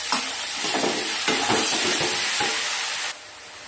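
Potatoes tossed into a pan with onion, salt, turmeric and grated onion, garlic and ginger, sizzling steadily under repeated stirring scrapes, close and fairly loud, then dropping abruptly quieter near the end.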